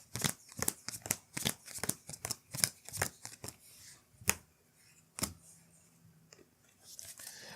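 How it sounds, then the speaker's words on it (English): A deck of game cards for the board game Gamma Grunts being shuffled on a table: a rapid series of crisp, close riffling snaps and slaps, dense at first, then sparser, isolated flicks with no talking. "So we're going to give this a quick shuffle."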